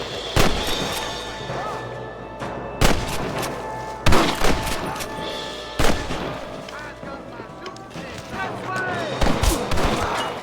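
Gunfire in the Western video game Red Dead Redemption: loud, sharp shots in irregular bursts, several close blasts spaced a second or two apart, over a busy battle backdrop with scattered voices.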